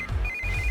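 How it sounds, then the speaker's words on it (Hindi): A short electronic telephone ring, a single high steady tone over low background noise, brief and fairly clear. "इस वक्त दीदी का फोन।"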